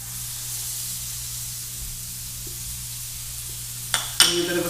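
Butter sizzling in a pan for savoury French toast, a soft steady hiss over a low hum, then two sharp louder bursts of spitting sizzle near the end as something hits the pan.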